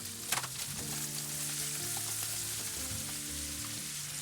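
Calabresa sausage is added to carne do sol already roasting in the pan for Bahian cassava pirão. A continuous, fairly soft sizzle runs throughout.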